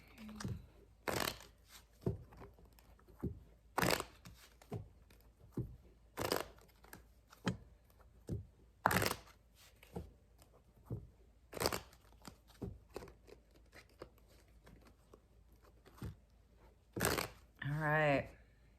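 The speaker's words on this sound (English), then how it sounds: "Needs a big shuffle this time, I guess." A deck of cards is shuffled by hand in a quiet room: irregular bursts of riffling and snapping with pauses between them. The shuffling runs on for a long stretch and ends in a short rustle, and a person speaks now and then.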